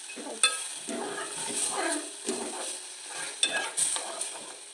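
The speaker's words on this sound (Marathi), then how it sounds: "मस्तपैकी सॉते करून घ्यायचे" Walnut halwa mixture being sautéed and stirred in a pan, soft sizzling with scraping strokes of a spoon against the pan, close and steady, with a couple of sharper clinks.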